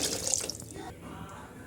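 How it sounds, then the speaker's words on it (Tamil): Brief splash of water pouring and running over meat being washed, as from a tap into a bowl, fairly close. "இதை நல்லா தண்ணி ஊற்றி வாஷ் பண்ணிக்கலாம்"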